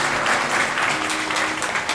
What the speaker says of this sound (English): Let's give the Lord a hand clap of praise this morning,